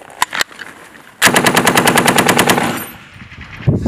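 A machine gun firing during an infantry live fire exercise: two single sharp shots, then a loud rapid burst of about fifteen evenly spaced rounds lasting over a second, followed by another shot at the end.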